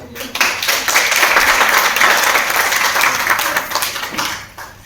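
Applause from an audience at a youth team meeting in Ballabgarh, a dense steady wash of clapping lasting several seconds before tapering off, with no talk over it.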